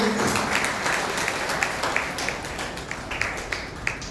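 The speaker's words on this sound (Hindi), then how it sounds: "जोरदार ताली बजाइए।" A crowd at a university welcome ceremony in a postgraduate Angika department in Bhagalpur claps loudly, a continuous patter of many hands that eases slightly in strength toward the end, with no voices over it.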